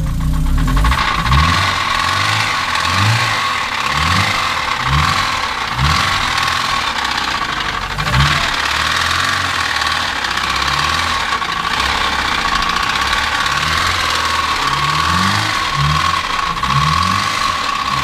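BMW E36 saloon with an M43B18 1.8-litre four-cylinder engine revving hard under full throttle, a loud, steady, gritty mechanical roar with rhythmic knocking and clattering pulses throughout, no talking.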